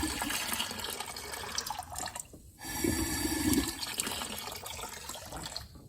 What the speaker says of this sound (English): just blow some air through them to try to get the rest of the coolant out